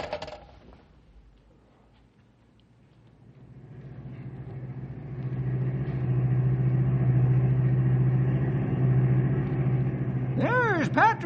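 Radio-drama sound effect of a car driving: engine rumble swells in after a quiet start and holds as a steady, loud drone, with a few quick rising whistle-like sweeps near the end.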